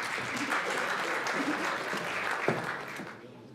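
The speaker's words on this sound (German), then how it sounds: "Einen großen Applaus für Ujwala Gupta und Team." Hearty applause after a Bollywood dance performance at a charity gala in Frankfurt, dense clapping that carries steadily before tapering off at the end.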